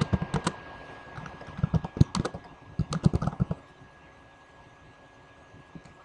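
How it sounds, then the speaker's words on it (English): Computer keyboard typed on with both hands, bursts of quick key clicks close by for about three seconds, then quiet. "I'm going to type that in with both hands."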